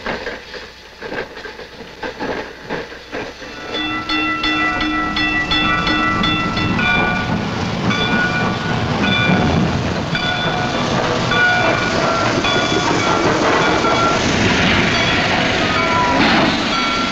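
A train rumbles past on the rails, loud and close, with steady clatter and tonal squeals building as it goes by; no talking.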